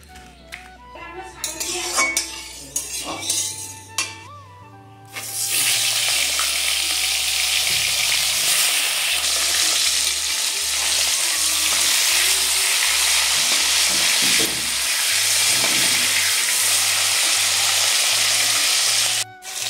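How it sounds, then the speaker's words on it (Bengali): A fish head sizzles loudly in hot oil, a steady crackling hiss that begins after a few seconds of clinking utensils, with occasional scrapes and stirring. "এখন মাছের মাথাটা আমি ভেজে নেব।"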